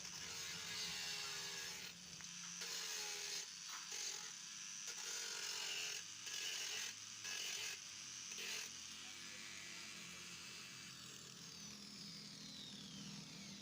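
Angle grinder working on a CD motorcycle, giving off a steady, high whining grind that is broken by a series of brief pauses before it runs on continuously.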